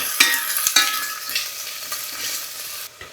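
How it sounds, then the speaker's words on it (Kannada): Garlic, onion and curry leaves fry in a pan with a steady close sizzle, broken by a couple of sharp clinks and scrapes from stirring. "ಸ್ವಲ್ಪ ಬೆಳ್ಳುಳ್ಳಿ ಸ್ವಲ್ಪ ಈರುಳ್ಳಿ ಹಾಕೊಂಬಿಟ್ಟು ಒಂದೇ ಒಂದು ನಿಮಿಷ ಚೆನ್ನಾಗಿ ಹುರ್ಕೊಬೇಕು"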